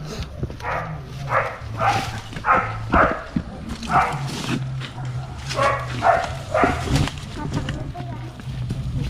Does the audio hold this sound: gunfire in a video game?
no